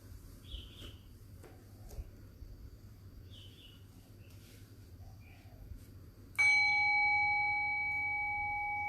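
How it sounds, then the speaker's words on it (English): A meditation bell is struck once, a clear close ring that sustains and slowly fades over a quiet room with faint background noise. "So I'll ring the bell and"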